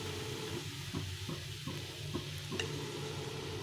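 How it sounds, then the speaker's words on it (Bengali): Cooked rice frying in a pan with a splash of vinegar and soy sauce, a steady sizzle broken by several scraping stirs of a spatula at an uneven pace, close and alone with no talk. "ভাতটাকে ভালো করে ভেজে নিতে হবে।"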